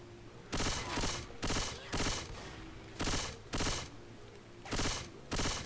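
Gunfire in the zombie shooter Left 4 Dead 2 comes in several loud bursts of rapid shots, spaced about a second apart and repeating through the stretch.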